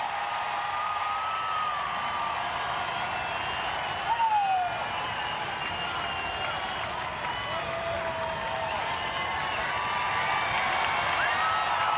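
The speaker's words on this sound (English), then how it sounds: "And listen to the crowd at Oracle Park." A big crowd at Oracle Park during a Cardinals vs Giants baseball game makes a steady, distant roar with scattered cheers and whistles, running continuously throughout.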